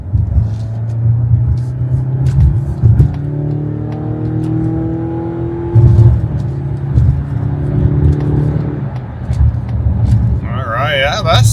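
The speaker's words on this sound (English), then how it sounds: "Let's hear the engine." A 2025 Mazda CX-70 PHEV accelerating from inside the cabin, a steady engine drone rising in pitch through the run, fairly loud and close, with a voice speaking briefly near the end.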